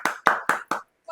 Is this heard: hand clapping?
yes